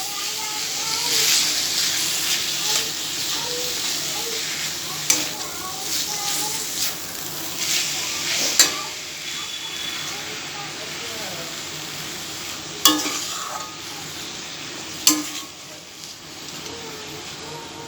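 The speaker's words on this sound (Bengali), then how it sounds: "এবার খুব ভালোভাবে আমি নাড়াচাড়া করে নেব" Squeezed banana flower and spices are stirred in a hot pan, giving a continuous hiss and sizzle punctuated by scraping, clacking strokes of a spoon against the pan at irregular intervals, with a voice speaking at times.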